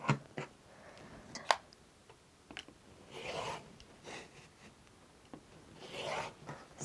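Fabric being cut for a beginner's quilt-as-you-go project, heard as soft rasping and rubbing strokes with scattered sharp ticks and clicks, close and fairly quiet throughout.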